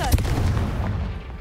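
Confringo fire spell blast in Hogwarts Legacy, a loud, booming burst that fills the whole moment with a dense, rumbling roar and a sharp opening crack.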